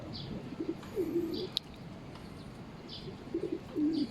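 Pigeons on a rooftop coo in soft, low repeated phrases, two bursts spaced a few seconds apart, with faint higher chirps and a brief click, fairly close and without speech.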